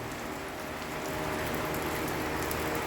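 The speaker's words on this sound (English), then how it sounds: "A torrential downpour." Torrential rain pours down in a steady, dense hiss, with the downpour swelling slightly louder partway through and no voices present.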